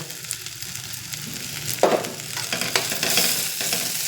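Ingredients frying with turmeric in a pan for tomato chutney, a steady sizzle with scraping stir strokes and a few louder spatters, close up and without voices.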